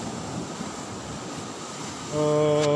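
Large sea waves surging against the eroding shore of Blibis beach at Pariaman, a steady broad roar of surf with wind, rising louder near the end with a tonal hum joining in.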